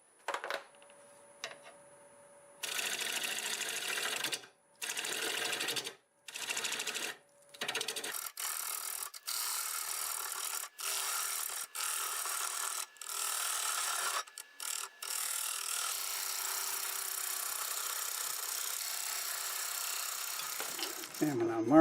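Lathe tool cutting into a spinning camellia stump to flatten a base, repeated loud scraping passes separated by short pauses, then a longer continuous cut, close by.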